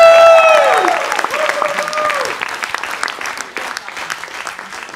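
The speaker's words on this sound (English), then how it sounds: "Let's applaud for the one and only program manager" Applause rises from the audience at a Techstars Tel Aviv demo day, greeting the program manager: a loud crowd of clapping hands, strongest at the start with a few tonal swooping tones over it, then settling into steady even applause.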